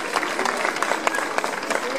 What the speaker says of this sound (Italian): E quindi un applauso.